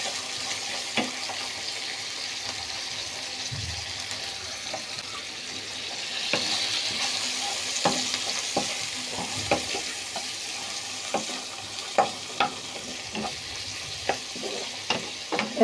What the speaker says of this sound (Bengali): আমি এখানে আগে পেঁয়াজ তেলে দিয়ে দিয়েছি, আর এখন দিয়ে দেব চিংড়ি মাছ